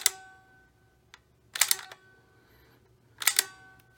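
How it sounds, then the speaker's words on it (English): An NES Zapper light gun trigger clicking when fired, three crisp mechanical clicks spaced over a few seconds, close and isolated against a faint hum. "And here you can hear the difference in the way the gun sounds when you fire."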